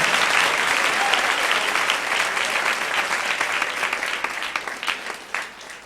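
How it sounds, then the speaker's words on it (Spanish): A church congregation at a Sunday morning service gives sustained applause, a thick wash of many hands clapping that thins slightly toward the end, with a few separate claps standing out. "Dele ese aplauso al Señor en esta mañana."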